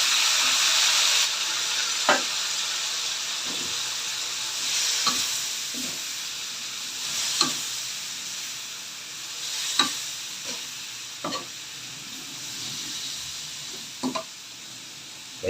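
String beans sizzle steadily in a hot frying pan while a utensil stirs and scrapes them at irregular intervals, the crackling frying continuous underneath.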